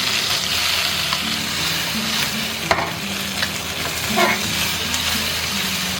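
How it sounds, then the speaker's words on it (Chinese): Cornstarch-coated shrimp sizzle steadily in a hot pan over medium-low heat close by, a continuous crackling fry with occasional soft stirring sounds. "保持中小火煎"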